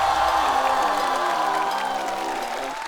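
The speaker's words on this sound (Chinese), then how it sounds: "掌声欢迎来自老友记小队的大老王基友" A studio audience applauds and cheers as comedians are welcomed onto the stage at a stand-up comedy show, loud dense clapping with a sustained tonal musical bed underneath, gradually easing toward the end.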